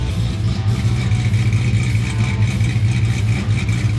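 A Christine replica car's engine runs steadily and loudly throughout, a low rumbling drone with a faint mechanical clatter, no voices over it.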